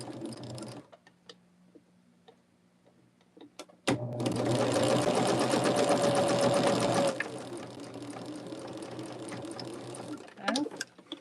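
A sewing machine runs in a steady burst stitching a seam through a bulky quilt block for an Ohio Star quilt, preceded by a few faint clicks and handling noises, with some quiet movement after it stops.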